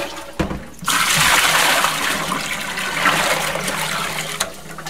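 Water gushes steadily into and around a used Corny keg as it is rinsed out, a loud continuous splashing rush that starts abruptly and runs without talk.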